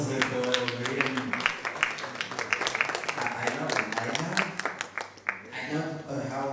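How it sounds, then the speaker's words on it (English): Round of applause from the audience at a book launch event, dense rapid clapping filling the room with voices mixed in, easing off briefly near the end before picking back up. "Good round of applause for Marianne."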